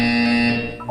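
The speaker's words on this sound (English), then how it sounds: "You will hear a buzzer." An electronic buzzer from the video game Portal 2 sounds as a steady, loud, harsh tone with strong harmonics, held for about a second before a brief tonal shift at the tail.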